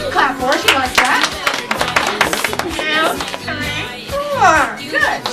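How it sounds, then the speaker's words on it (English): An audience at a parrot show claps for a 26-year-old parrot, bursts of close hand claps mixed with excited children's voices and other chatter. "You can clap for her."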